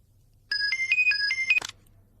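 A phone ringtone for an incoming call, from a Telugu suspense thriller series, plays as a bright, close melodic run of beeping tones lasting about a second before it cuts off, with only quiet background hum around it and no talking.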